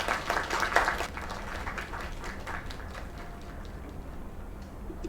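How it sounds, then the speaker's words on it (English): Applause from a small group at a bar or café celebrating an opening, clapping loud at first then thinning into scattered claps, no talk. "Another round of applause."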